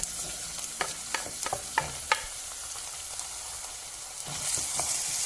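Chopped onion frying in olive oil in a pan produces a close, steady sizzle broken by a series of sharp spoon taps and scrapes against the pan, with the hiss swelling louder toward the end.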